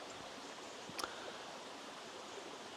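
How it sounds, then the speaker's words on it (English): A small burn on a remote Hebridean island bubbles with a soft, continuous watery hiss, faint and steady, broken only by one brief crisp tick near the middle. "The burn, which is to my side here, was bubbling away and singing its song."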